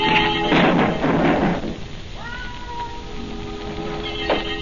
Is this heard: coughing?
no